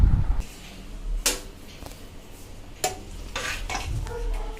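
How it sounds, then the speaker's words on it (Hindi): Rice with spices is stir-fried in a pan, a spoon scraping and stirring in several sharp strokes over a steady sizzle, close and fairly loud. "चावल डाल दूँगी, फिर भून दूँगी, खूब भूनूँगी इसको"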